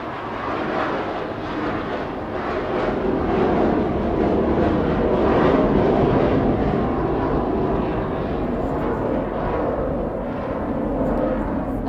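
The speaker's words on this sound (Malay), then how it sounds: "Kapal terbang lalu awak ingat kan?" An airplane passing overhead makes a steady, loud broadband engine roar that builds gently and holds for several seconds, with no talk over it.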